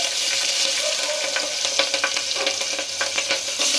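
Green chillies and onion pieces fry in hot oil in a pan for pulao, a loud, close, crackling sizzle with rapid spitting pops and stirring scrapes throughout, no voices.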